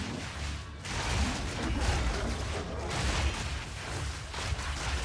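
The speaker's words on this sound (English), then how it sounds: "Armor break does some explosions." Armor-break explosion effects in an action game, a continuous barrage of crackling booms and impacts, loud and steady with a brief dip near the start.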